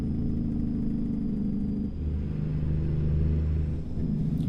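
Deep rumbling engine of an Ironworks W900 truck in American Truck Simulator with a modded, slightly more powerful engine and sound pack, droning steadily with a gear or throttle change near the middle, loud and close with no voices.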